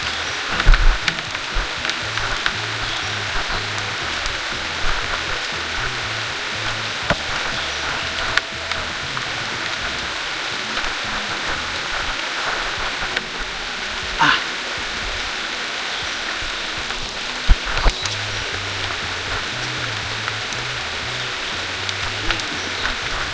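Steady rain falls on a muddy rainforest hiking trail near Nam Xay Viewpoint in Laos, a constant broadband hiss with scattered close drips throughout, no speech.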